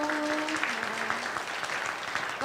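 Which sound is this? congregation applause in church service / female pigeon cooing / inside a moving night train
congregation applause in church service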